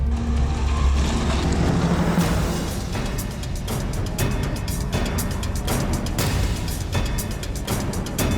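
A car engine runs close by and its tone rises and falls, with steady low rumble and some rough scraping texture, as the car is driven off the road into bushes. No one talks over it.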